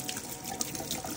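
Running tap water splashes steadily over fresh coriander being rinsed in a kitchen sink, with small drips and splashes over a constant close-up flow.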